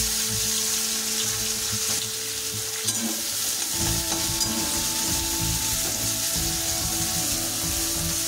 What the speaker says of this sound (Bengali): উচ্ছেগুলো ভাজা করে নেব